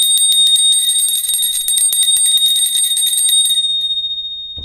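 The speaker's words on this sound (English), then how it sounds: "We're going to ring the bell." A bright bell rings in rapid repeated strikes for about four seconds, shimmering and sustained, then fades out with no voices.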